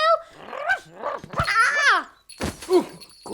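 A cartoon dog called Bumpy Dog barks and growls in short, lively bursts, loud and close, with animated cartoon voices mixed among the yaps.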